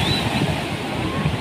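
Ocean waves at a beach in Mazatlán, a loud, steady wash of surf with a constant roar throughout, up close, with faint voices mixed in underneath.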